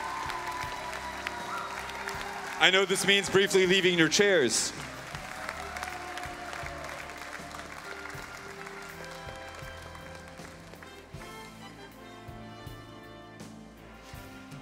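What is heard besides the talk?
audience applauding and cheering the coaches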